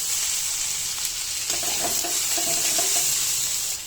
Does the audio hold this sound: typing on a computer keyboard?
no